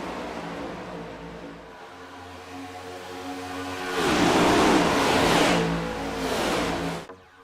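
Race cars accelerating at Daytona in a racing video game, engine tones rising in pitch, a louder surge of engines and rushing noise as cars pass close mid-way, then cutting off sharply.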